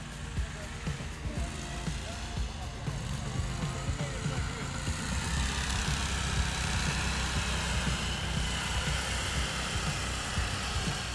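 The engine of a 24 HP motorized sled runs loud and close, a steady rumbling drone that builds slightly in strength and holds for the whole stretch.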